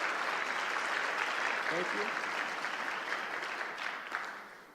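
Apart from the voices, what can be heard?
audience round of applause for a former Congresswoman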